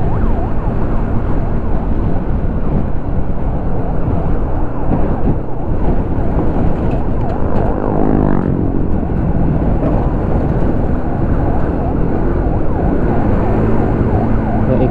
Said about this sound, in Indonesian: Kencang kali ya kalau ambulan mobilnya kayak gini